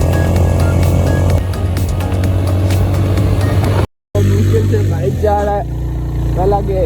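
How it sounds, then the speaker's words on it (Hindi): A motorcycle engine drones and strains while climbing a steep uphill mountain road on a Skardu bike tour, a loud, continuous rumble heard under people talking, with a short dropout partway through. "नीचे से बाइक जा रहा है"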